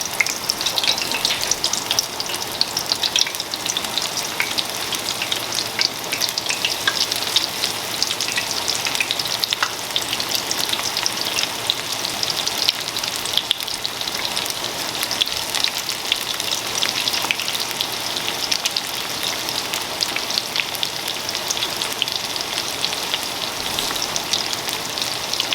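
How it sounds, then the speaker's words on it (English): Shrimp fry in medium-low oil with a steady, rain-like hiss of dense crackles and small pops. The sound is even and close, with no talking. "now we need to drop our shrimp into the oil"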